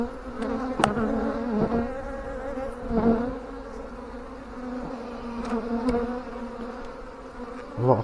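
Honey bees buzz thickly around an open beehive during a hive split, a continuous near drone with individual bees flying close past the microphone in brief louder passes.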